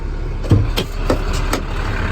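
A 2008 International 4300 dump truck with a 10-foot dump body and a diesel engine idles steadily, a close, even low rumble with a few faint knocks and no talking.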